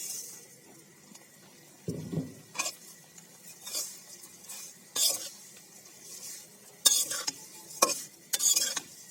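Semai vermicelli frying in oil while being stirred, with a low steady sizzle and a run of scraping stirs and clinks that grow louder and more frequent toward the end.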